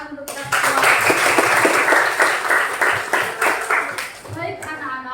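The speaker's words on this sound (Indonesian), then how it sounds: "Tepuk tangan untuk kita semua." A crowd claps steadily for several seconds, dense and loud, with some voices mixed in as it tapers off near the end.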